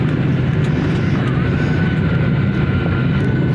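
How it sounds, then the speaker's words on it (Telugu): An airliner's engines roar steadily as a flight from Malaysia to India gets under way, a loud, even rumble filling the cabin without a break. "ఫ్లైట్ స్టార్ట్ అయింది. మరికొద్ది సేపట్లో టేక్ ఓవర్ కానుంది."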